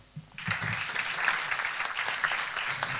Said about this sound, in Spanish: su presidente, don Carlos Alonso, para el que pido un fortísimo aplauso.